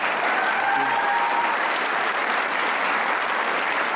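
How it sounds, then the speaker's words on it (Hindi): A studio audience applauds Pakistani hockey player Rana Waheed, a steady, dense wash of clapping that stays loud and even for the whole stretch, with no voices over it. "राना वहीद के लिए ताली।"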